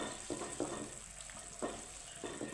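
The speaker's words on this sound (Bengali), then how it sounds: "এখন মশলাটাকে আমি কষিয়ে নিব।" Spice paste mixed with yogurt sautéing in a pan, a steady sizzle broken by a few soft stirring scrapes at a regular pace, close and moderately loud with no talking.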